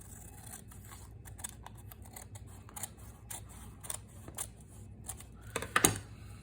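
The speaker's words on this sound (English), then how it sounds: "And we'll trim this off." Scissors trimming paper for a junk journal made from double file folders, a few faint soft snips and rustles, with a sharper cutting burst near the end, quiet and close with no talk.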